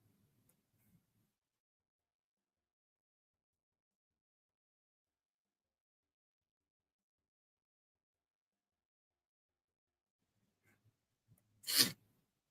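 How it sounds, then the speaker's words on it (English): After a long near-silence, a single loud, sharp sneeze bursts out close by, preceded by a faint breath. "I am sneezing. I am blowing my nose like crazy"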